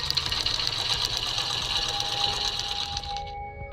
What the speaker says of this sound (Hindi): टीवी देखते हुए सिलाई मशीन पर सिलाई का काम करने लगी